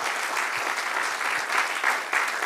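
A Spanish-speaking church congregation applauds during a sermon, dense, sustained clapping from many hands filling the room evenly at moderate loudness, with no speech over it.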